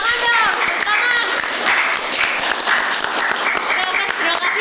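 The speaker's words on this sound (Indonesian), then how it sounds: "Tepuk tangan dong, tepuk tangan." A school audience at a podcast event claps together in a dense, continuous burst of applause, loud and close, with voices cheering and talking over the clapping.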